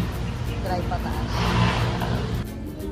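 A minivan drives up a ramp for an emission test at an LTO registration office in Caloocan, its steady engine rumble swelling a little mid-climb, with voices talking throughout.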